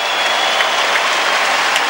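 A tennis crowd applauds Pete Sampras near the end of his career, a steady dense wash of clapping with no voices.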